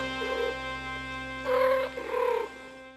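Two cats trade vocal calls, a soft nasal murmur followed by two louder drawn-out mewing sounds close by, over a steady electrical hum.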